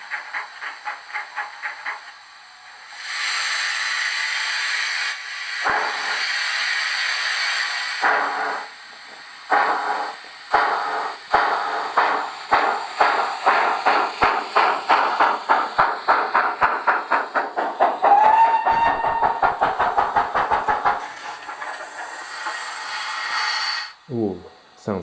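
Model steam locomotive sound unit chuffing and hissing at close range, with bursts of steam hiss, a run of rapid rhythmic chuffs that quicken, and a brief whistle, then fading out.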